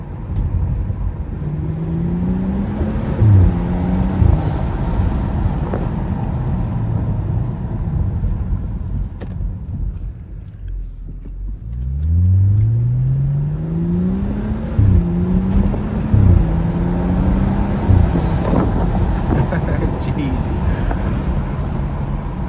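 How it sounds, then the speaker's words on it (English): BMW N55-engined car accelerating hard with a new intake and spinning tires, repeated rising engine pulls with gear changes and a dip midway, heard from inside under frequent talking. "I hope you guys like the new intake noise though"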